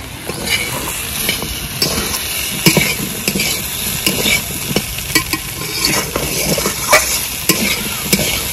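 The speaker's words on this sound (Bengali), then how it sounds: "ভালো করে কষে নিয়েছি, এবার দিয়ে দেব জল।" Flat beans and long beans with green chilli, salt and turmeric being stir-fried in a pan: a steady sizzle and hiss punctuated by repeated scraping and clinking of a spatula against the metal.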